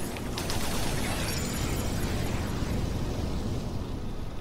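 Flames meeting oil set off a loud, broad roaring whoosh that erupts at once and rumbles on steadily for several seconds, close and dense, with no voices over it.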